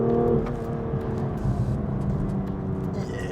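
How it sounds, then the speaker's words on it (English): A 2020 BMW M2 CS engine runs with a steady, close, loud mechanical drone and rumble throughout, with a brief rise in pitch near the start suggesting a rev. "When we get to the engine, I mean, you can hear it."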